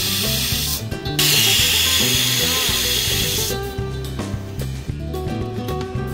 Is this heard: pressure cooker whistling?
yes